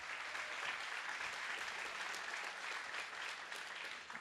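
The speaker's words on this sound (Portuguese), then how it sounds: "Eu peço também uma salva de palmas à nossa intérprete de Libras" Steady, even applause from the audience at a book fair debate, honouring the Libras sign language interpreter; many hands clapping continuously at a moderate distance.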